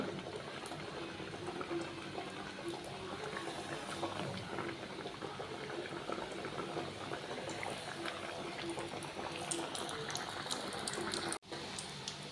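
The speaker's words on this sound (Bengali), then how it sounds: "তেলটা গরম হয়ে গেছে তো আমি এখন যে পুরিগুলো ছেড়ে দিব এক এক করে" Egg puris dropped one by one into hot oil in a home kitchen, giving a steady, dense bubbling sizzle that runs continuously and fairly close, with no talk over it.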